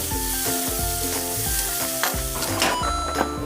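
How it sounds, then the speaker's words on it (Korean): Tofu searing in a dry pan while preparing kimchi bean sprout soup: a continuous close sizzle with light scraping and shifting, loud and steady throughout, no voices. "두부는 먼저 마른 팬에 구워줄 건데요"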